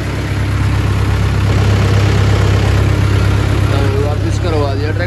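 Tractor engine idling with a steady low diesel rumble and throb, loud and close, continuous throughout with faint background noise and brief voices near the end.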